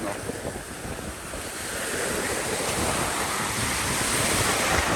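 Sea surf washing onto the beach at Kamakura, Japan: a steady broadband wash of breaking waves with wind noise buffeting the microphone, growing slightly louder and fuller over the few seconds, with no speech.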